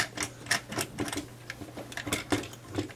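A Canon Vixia camcorder is screwed onto the tripod mount of a foregrip video bracket, giving a run of quiet, close, irregular clicks and light scrapes.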